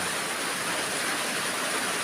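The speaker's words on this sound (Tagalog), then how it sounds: "pasensya na kayo kasi malakas po ang ulan. Malakas po ulan dito." Heavy rain pours down steadily, a dense, continuous hiss of downpour filling the space with no breaks and no voices.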